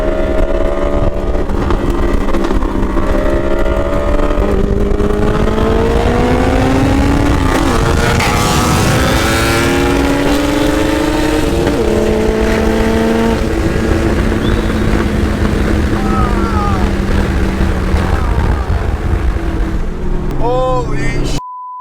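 A modified Yamaha R1 motorcycle races a 1,000-horsepower Mitsubishi Evo X, their engines roaring loud and continuous with pitch climbing through hard acceleration, voices faintly underneath.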